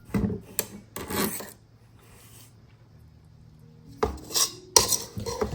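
A spoon scrapes the sides of a mixing bowl of sugar cookie dough, giving close rasping strokes in short bursts, with a quiet pause in the middle before the scraping resumes.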